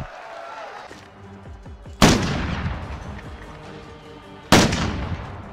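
Gunfire in the Call of Duty Warzone video game: two sharp, loud shots a couple of seconds apart, each ringing out with a long echoing tail.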